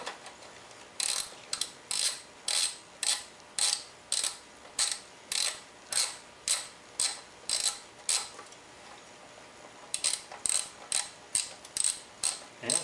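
Socket wrench ratcheting on the PCV valve of a 1998 Ford Contour: rapid bursts of sharp metallic clicks in an even rhythm, close and clear, with a short pause before the ratcheting resumes.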